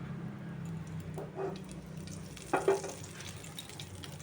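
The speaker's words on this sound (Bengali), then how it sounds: "এবার আমি কড়াইয়ের মধ্যে সামান্য জিরে আর একটু শুকনো লঙ্কা সম্বাদ দিলাম" Cumin seeds and dried chilli frying in a wok give a soft, low sizzle, with a couple of brief stirring scrapes partway through.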